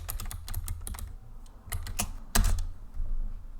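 Typing on a computer keyboard to enter a flight-simulator FMC route, close and clear, with quick clusters of key clicks, a short pause, then more keystrokes and a firmer final press.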